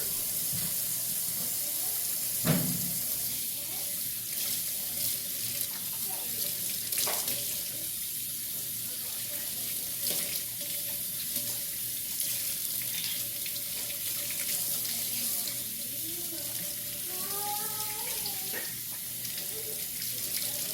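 Tap water runs over a brined sockeye salmon being rinsed, a steady faint hiss throughout with one brief knock early on.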